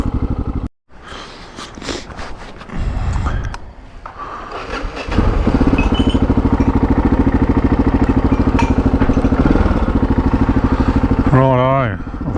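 A touring motorcycle rolls along narrow country roads, its engine holding a steady, loud drone after a brief rev and restart, with a rider's voice talking over it.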